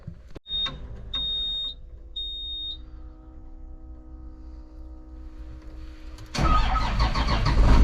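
A Caterpillar D5 bulldozer's diesel engine cranks and then roars to life, loud and close, inside a shed; high electronic beeps sound before the engine catches.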